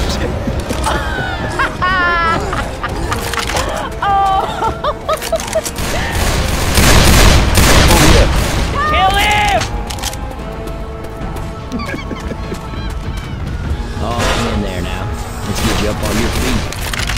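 Gunfire from several survivors shooting at the Tank in Left 4 Dead 2 on Realism Expert, loud bursts and rapid shots under game voices and shouted callouts, with a heavy boom mid-clip.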